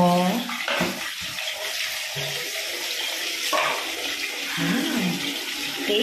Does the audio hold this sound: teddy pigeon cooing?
no